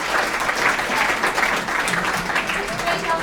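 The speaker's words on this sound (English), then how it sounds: "Give a round of applause." An audience claps at the Hack the Burgh 2016 hackathon prize presentation, a dense, sustained round of applause from a crowd that stays steady throughout.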